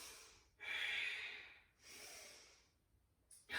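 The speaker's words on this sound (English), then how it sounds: "Couple more deep Ujjayi breaths here." Deep, slow Ujjayi breaths held in triangle pose during an advanced yoga flow, each long breath rising and fading in a smooth, breathy, slightly constricted whoosh, two full cycles close to the microphone with no talking.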